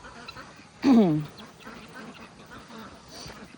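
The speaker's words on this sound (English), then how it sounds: "you see the black ducks. That's a fun breed of duck, and they lay black eggs" Black ducks, a breed laying black eggs, give one loud, close quacking burst on a farm, with faint talk and outdoor ambience around it.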